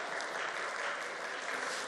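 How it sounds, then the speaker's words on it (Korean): Soft, steady clapping from a group of students in a school chapel, faint and distant, a brief continuous patter with no voices over it. "우리 가운데 있는 친구들만 박수 치는 것 같아요."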